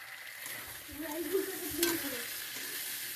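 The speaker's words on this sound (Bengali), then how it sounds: "এবার আমি ভাজা সয়াবিনটা দিয়ে দিচ্ছি" Fried soybeans sizzle in a pan as they are stirred, a close, steady frying crackle with a few louder scraping stirs partway through.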